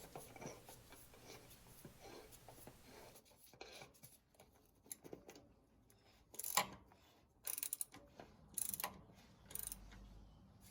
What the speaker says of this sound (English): Install the whole assembly back into the canister and tighten it down until it bottoms out.